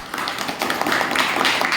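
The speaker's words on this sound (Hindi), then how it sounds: "एक बार संजीव सर के लिए जबरदस्त ताली होगी" Audience at a DTM open meeting in Gurgaon, Haryana gives a brief burst of scattered clapping, a short, fairly steady patter of hands in a hall.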